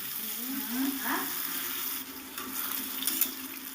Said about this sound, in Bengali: পেঁয়াজগুলো দিয়ে দিলাম এবার নেড়ে চেড়ে লাল করে আমি পেঁয়াজটাকে ভেজে নেব